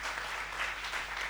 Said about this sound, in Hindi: एक बार तालियां होनी चाहिए सुरेश भाई साहब के लिए